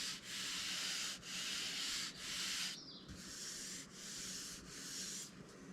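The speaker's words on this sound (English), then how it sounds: "I know that I'm gonna have to hit this anyway with some sort of sandpaper or steel wool" Sandpaper or steel wool rubbing over a finished custom built-in cabinet, a steady back-and-forth scratching in about five even strokes with short pauses between them, close and fairly quiet, with no voices.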